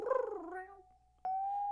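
A person imitates a cat with a drawn-out, wavering meow that glides into a steady high tone, followed by a brief pause and a second sustained, clear mew-like note, close and alone.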